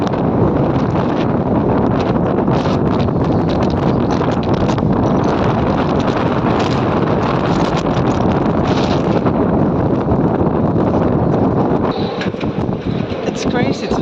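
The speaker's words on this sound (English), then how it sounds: "It's crazy today. It's so windy, and it hasn't even topped yet." Strong gusting wind of 20 to 40 knots roars across a harbor in winter in Denmark, a loud, continuous rush and buffeting against the microphone with rustling and faint boat sounds, steady throughout and easing slightly at the end.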